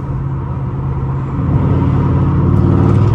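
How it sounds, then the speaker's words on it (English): A straight-piped AWD HEMI Chrysler 300 droning from inside the cabin while driving at night in downtown Chicago, a steady low exhaust rumble that swells slightly louder partway through, with no talking. "The drone in this car is not that bad."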